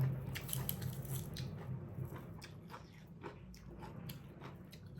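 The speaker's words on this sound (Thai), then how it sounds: "เคี้ยวไปเรื่อยๆมันจะออกหวานๆค่ะ" Close, quiet chewing of spicy rice vermicelli noodles with crab and fermented fish, soft wet bites and squishy mastication repeating unevenly with no talking.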